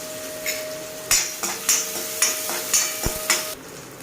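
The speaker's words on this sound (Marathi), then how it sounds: "कांदा चांगला लाल होईपर्यंत परतला" Chopped onion frying in a little oil with cumin and mustard seeds for a matki dal curry, a steady sizzle broken by sharp spoon clanks and taps against the pan.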